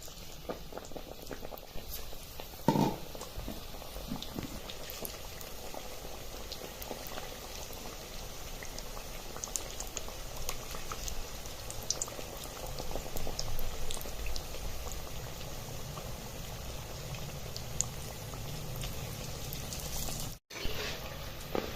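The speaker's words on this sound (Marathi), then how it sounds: "आपण दुसरी बॅच सुद्धा तळून घेणार आहोत" A batch of potato bhaji deep-frying in hot oil gives a continuous bubbling sizzle at an even, moderate level, with a few brief clatters and a short dropout near the end, and no talk.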